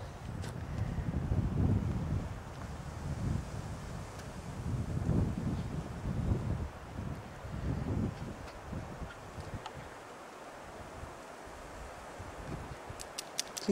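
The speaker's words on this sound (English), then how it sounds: "Do you hear the wind?" Wind gusts outdoors beside a Scottish loch, rumbling in uneven surges against the microphone before easing into a quieter hiss with faint rustling.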